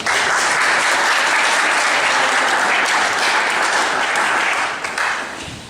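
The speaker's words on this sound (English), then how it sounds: "Let's do another round of applause for Robert Temple" Dense, steady applause from a crowd at a corporate client success celebration, a thick continuous roar of many hands that holds evenly and tapers slightly at the end.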